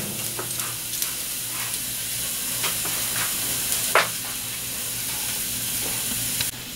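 A sirloin steak sizzles on a grill with a continuous loud hiss. Scattered sharp pops and spits break through, with one stronger burst near the middle.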